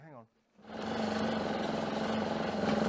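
A Mobylette moped engine is cranked by hand, starting with a short rising voice-like tone and a brief gap, then a steady, buzzing mechanical whir that holds evenly for over two seconds.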